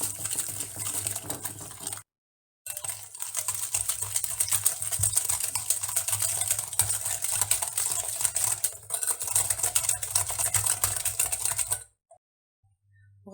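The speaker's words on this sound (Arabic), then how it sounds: "وغادي نضيف سكر سنيده، وغادي نخلطهم مزيان" A whisk mixes salt, vanilla sugar and caster sugar for a cupcake batter with a rapid, steady clicking and scraping against the bowl. It runs continuously with one brief pause and stops near the end.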